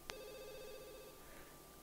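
A telephone in The Sims 2 video game rings once with a short electronic trill after a sharp click, then fades into quiet room tone.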